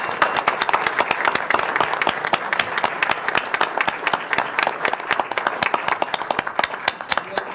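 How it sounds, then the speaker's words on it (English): A city council meeting audience applauds steadily, many hands clapping at once in a dense, continuous burst with no pauses. "Let's give a big round of applause."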